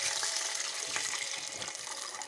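Water pours steadily into hot tempering of oil, cumin and mustard seeds with a little sugar for instant khaman dhokla, a continuous close splashing hiss with no talk.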